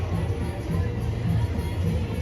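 A crowd gathered at a Jeremy Corbyn rally in Leeds murmurs in a steady outdoor babble, a close voice talking over the low hubbub.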